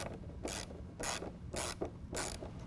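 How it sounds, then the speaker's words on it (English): A 1/2 inch ratchet tightens a fender flare bolt, giving four evenly spaced bursts of quiet, close rasping clicks. "We're going to use a 1/2 inch ratchet."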